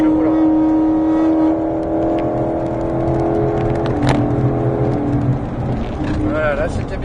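A 2021 Mustang GT500 pulls away on the Folembray race circuit, its engine a steady loud drone that rises under throttle, with an instructor talking over it throughout.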